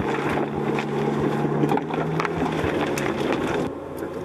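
Vehicle grinding off-road along a forest track in Romania, a steady low engine drone with rumbling, jolting bumps and wind-like noise throughout, close and continuous.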